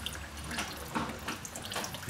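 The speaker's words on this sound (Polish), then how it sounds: "To jest resztka paliwa, która leci" Leftover fuel running out of a removed fuel filter into a container on a Zipp ZV-50 scooter that won't start, heard as close, soft watery trickling and dripping with a louder splash at the end.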